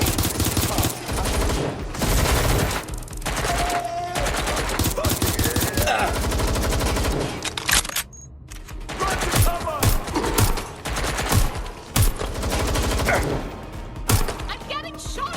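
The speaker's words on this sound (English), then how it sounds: "I'm getting shot at here!" Sustained bursts of gunfire fill the game Watch Dogs Legion, rapid volleys and single shots stacked over loud music and effects, with a brief lull in the middle before the shooting resumes.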